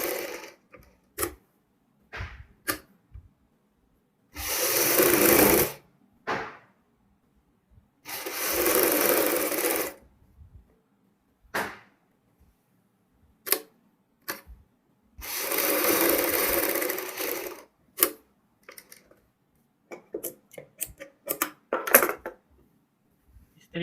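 A sewing machine stitches patchwork with a light hand, in three separate bursts of whirring a second or two long, broken by quiet gaps full of small clicks and fabric handling.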